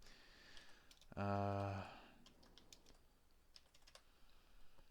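Quick typing on a computer keyboard while building a Left 4 Dead 2 map in the Hammer editor, a short burst of close, rapid key clicks with faint clicks scattered afterward.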